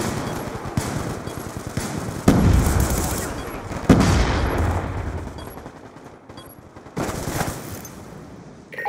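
Rapid sustained minigun fire from the Death Machine in a shooter video game, with dense continuous bursts rattling throughout and a few louder heavy bangs punctuating the stream.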